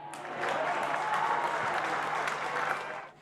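Spectators in the stands at a TSL Australian rules football match applaud in a steady mid-distance burst that swells and then fades.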